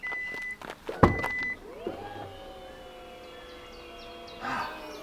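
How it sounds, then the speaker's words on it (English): Power tailgate of a Hyundai Ioniq 5 opening: an electric motor whine rising in pitch and then holding steady, close and fairly clear, preceded by a few clicks and a thump, with no talk. "Power tailgate."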